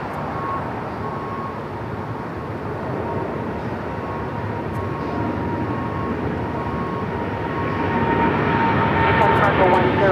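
An American Airlines Boeing 767 rolls for takeoff on runway 25 right at LAX, a broad, steady jet roar that swells slightly toward the end, with a faint voice over it.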